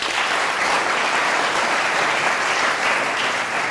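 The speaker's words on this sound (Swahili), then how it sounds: "Wapiga makofi hao wangwana" An audience at a school Swahili arts performance claps together in a dense, steady round of applause, close and loud throughout.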